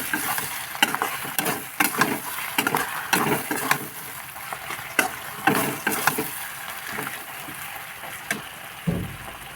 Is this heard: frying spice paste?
yes